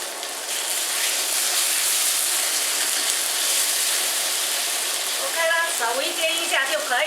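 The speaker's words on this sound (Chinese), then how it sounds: "把牛肉放下来煎它" Beef frying in hot oil in a pan gives a loud, continuous sizzle, with a voice speaking over the hiss toward the end.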